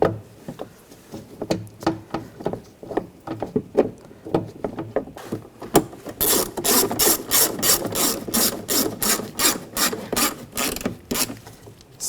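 A ratchet clicks in quick repeated bursts while bolts are snugged down on the door of a 2009–2017 Volkswagen Tiguan during a power window and door lock switch replacement, loud and close with no talking.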